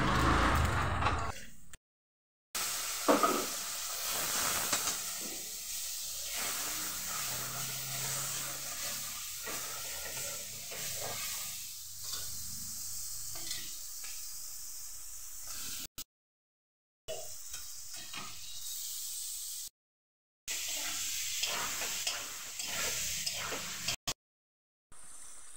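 Paneer curry with panch phoron and nigella seeds hisses and sizzles steadily in a hot pan, a broad close-up frying hiss broken by a few brief silent gaps, with no talking.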